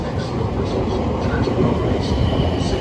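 A BR Class 455 electric train at Clapham Junction station, London, gives a steady, close, loud rumble of rolling rail noise that holds without pause.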